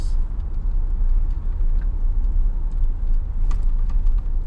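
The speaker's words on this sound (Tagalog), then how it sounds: "Jeep nga solar bus." Solar-powered jeepney bus in Cebu, its engine and road noise rumbling steadily and loud nearby with a few faint clicks and rattles on top.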